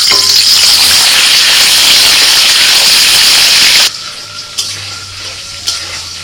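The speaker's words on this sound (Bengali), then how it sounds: "তেলটা গরম হয়ে গেছে, এবার ফুলকপি দিয়ে দিচ্ছি।" Parboiled cauliflower fries in hot white oil in a wok with a loud, dense sizzle that runs steadily for several seconds, then cuts off into quieter crackles and occasional pops.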